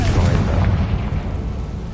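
A Confringo blasting spell from the Hogwarts Legacy video game erupts in a loud, rumbling explosion that fills the whole moment, a dense low boom decaying slowly with no talk over it.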